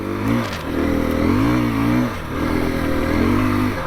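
A 2021 KTM 350 EXC-F four-stroke dirt bike is ridden on frozen, snowy ground while being broken in, its engine droning loud and close with gentle rises and dips in revs.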